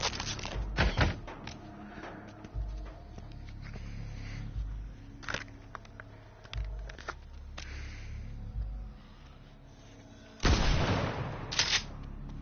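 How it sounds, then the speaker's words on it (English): Lever-action rifle shots in a zombie video game, a handful of sharp cracks scattered across a quiet stretch, with one heavier burst of fire near the end; fairly distant and unevenly spaced. "Rifle. Lever action."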